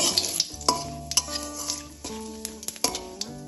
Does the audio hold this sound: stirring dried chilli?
yes